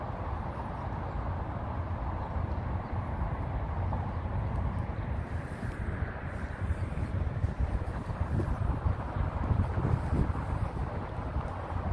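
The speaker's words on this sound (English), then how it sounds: "Getting a little windier than during the day." Wind blowing by the Hudson River in New York City at sunset, a steady rough rumble buffeting the microphone, loud and continuous with gusts swelling toward the end.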